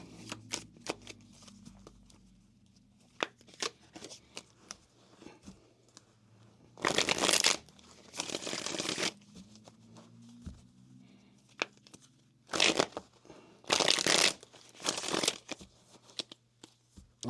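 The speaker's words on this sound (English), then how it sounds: "let's cut this deck here and see what is coming up" Tarot card deck being shuffled and cut, soft scattered card handling punctuated by several loud riffling bursts of shuffling, close and alone without talk.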